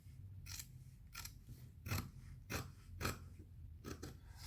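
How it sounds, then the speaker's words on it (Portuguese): Scissors trimming a sewn fabric bag piece about three millimetres from the seam, several crisp snips in an irregular rhythm, close and clear with no talking. "Agora eu vou refilar a peça, tá bom? Vamos cortar mais ou menos uma distância de 3 milímetros."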